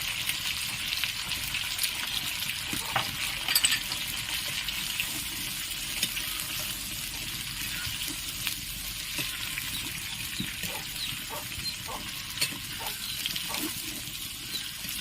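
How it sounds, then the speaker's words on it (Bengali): Carrots and beans frying together in a pan for a special mixed vegetable dish, a steady soft sizzle with occasional light clicks and stirring taps throughout, no voices. "এর সাথে আমি গাজর আর বিনসগুলো দিয়ে দিলাম। একসাথে আমি এটা ভেজে নেব।"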